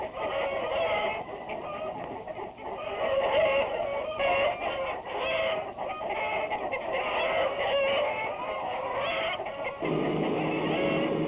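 Several chickens cluck and chatter continuously at close range, a busy overlapping flock sound with a brief shift in background tone near the end.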